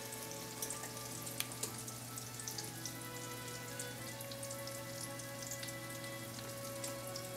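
Chicken cutlets browning in a hot pan, giving a continuous even sizzle like light rain with scattered crisp pops, moderately quiet and steady with no voices.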